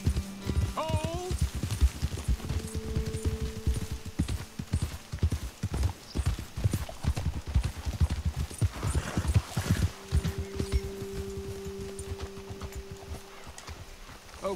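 Horse hooves clip-clop steadily and close as riders travel in the game Red Dead Redemption II, with brief neighs and voices talking over the rhythmic hoofbeats.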